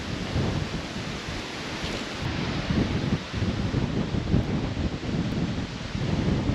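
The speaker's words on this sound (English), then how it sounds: "It's a windy day, so I don't know whether you can hear me." Heavy wind buffets the microphone near a standing stone by Avebury in a constant low roar and rumble, loud and close, with no voices heard.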